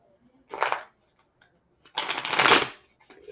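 A deck of tarot cards is riffled in two quick bursts, a short one and then a longer, louder one, crisp and close with near silence between.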